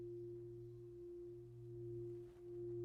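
A singing bowl set on a person's body during a sound-healing session rings with a steady, sustained hum, a clear low drone and a higher tone holding evenly throughout with no speech.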